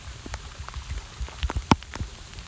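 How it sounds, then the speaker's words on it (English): Rain falls on a small fishing boat, scattered drops tapping irregularly against the hull and gear, close and fairly quiet, with a few sharper hits standing out and no talk. "Here comes the rain."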